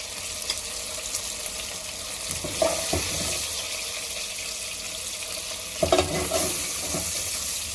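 Onions sizzle in oil left from roasting chicken for pulao, with a constant frying hiss broken twice by louder bursts of stirring and scraping in the pan.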